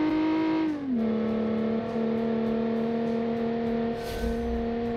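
Loud homemade gravel rally car built for Pikes Peak testing, its engine holding a steady buzzing idle with a brief pitch dip early on, close and continuous with no talk.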